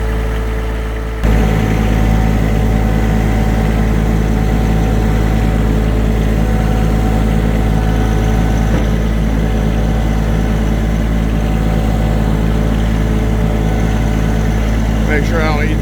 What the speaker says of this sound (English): I moved that big trailer with this tractor through this narrow path and able to do it without hitting the fence